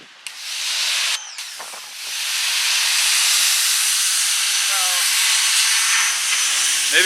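A Ryobi power washer spraying water against the side of a house, a loud steady hissing rush of spray that starts after a brief pause and holds constant, heard close.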